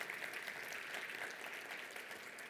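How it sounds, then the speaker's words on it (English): Steady applause from a conference audience, a dense wash of many hands clapping at moderate volume throughout, with no talking. "Round of applause."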